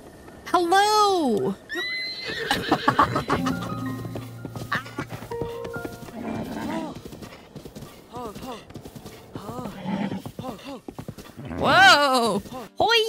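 Horses in a video game whinny and clip-clop through a lively scene, their neighs rising and falling again and again while a player talks and calls out excitedly over them.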